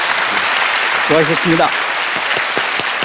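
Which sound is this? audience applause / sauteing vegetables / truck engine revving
audience applause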